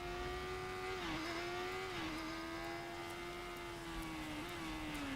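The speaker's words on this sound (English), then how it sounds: "Motorcycle, motorcycle. In the distance, I hear it cry." A continuous motorcycle engine drone in Fortnite, pitch dipping and rising slightly as the throttle shifts, steady and moderately loud with no talking.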